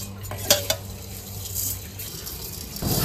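Vermicelli frying in ghee in a wok over a wood or clay stove, with a couple of sharp metallic clinks of a spoon near the start, then a soft, steady sizzle and stirring close by, no talk.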